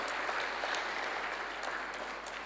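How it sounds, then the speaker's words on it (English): Steady applause from an audience at the Thabo Mbeki Africa Day Lecture in Dar es Salaam, a dense, even wash of clapping that holds at full strength throughout with no voices over it. "A round of applause, please."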